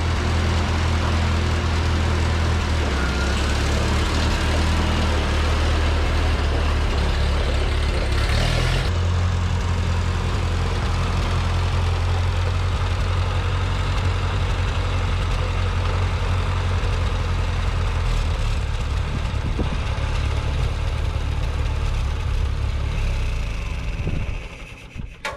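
A Ford 2N tractor engine runs steadily and loudly close by, a deep continuous idle that shifts in tone partway through, then cuts off abruptly near the end.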